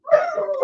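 An excited dog whimpers in a short, high, wavering whine close to the microphone, rising then falling in a single drawn-out cry.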